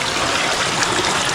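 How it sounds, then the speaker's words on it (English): Hot spring water flows out of the rocks in a steady, close, rushing stream with no pauses. "up here is where you got the hot water coming out the rock from up there"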